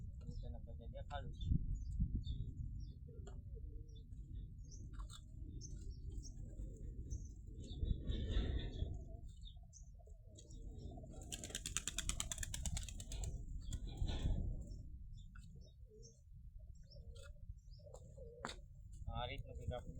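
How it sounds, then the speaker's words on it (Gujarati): Wild pigeon chicks give soft, faint coos and chirps in a quiet setting, while a person talks over them for much of the time. "ચલો તમને કબૂતરના બચ્ચા દેખાડું"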